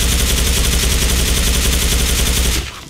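A FAMAS Black rifle in the video game Special Force 2 is fired from a standing position in one long, rapid automatic burst of loud, tightly spaced shots that stops abruptly near the end.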